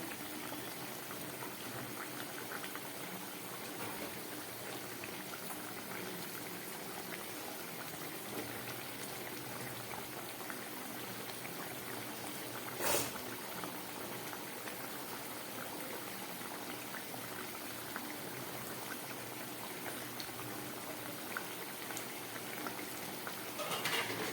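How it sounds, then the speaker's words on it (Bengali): A pot of katla fish curry with eggplant and slit green chillies boils steadily, a continuous soft bubbling simmer heard close and alone, with one brief clatter partway through. "মাছের ঝোলটা ফুটে উঠেছে।"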